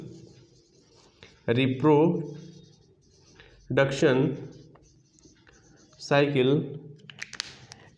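A marker squeaks across a board during a lecture, in three separate bursts of scratchy strokes with pauses between them.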